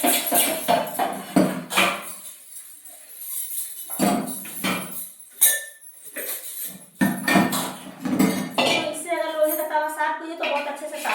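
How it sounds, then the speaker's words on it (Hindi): Dishes washed by hand at a home kitchen sink, with repeated clinks and clatters of utensils and pots in irregular bursts, some running water, and someone speaking between the sounds. "अब ये जो थोड़े से मैंने बर्तन है ना, इसको मैंने सुबह के लिए रख देती हूँ। अब इन्हें मैं धुल लेती हूँ।"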